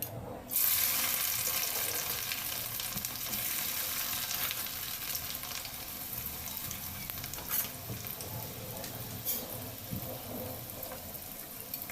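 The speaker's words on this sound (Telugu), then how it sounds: "ఇట్లా వేగాలి, డీప్ ఫ్రై మంచిగా అయినాయి." Bitter gourd pieces deep frying in hot oil, a continuous loud sizzling hiss that holds steady throughout with a few faint stirring clinks near the end.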